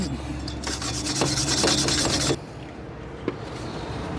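A car wheel hub face gets a quick cleaning with steady rubbing and scraping during a brake job, a close continuous rasp that stops partway through, followed by quieter background noise and one faint knock.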